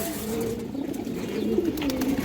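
A pigeon coos close by, low rolling calls continuing steadily through the short stretch with no talk over them.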